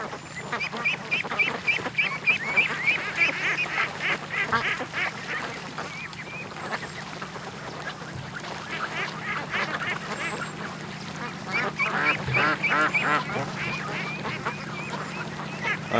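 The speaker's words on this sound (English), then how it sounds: "there's a bunch of ducks headed over to the other side of the lake right off the bat." A group of ducks quacks on a lake in a rapid, overlapping chatter, fairly close and continuous, and a few honks mix in with the quacks.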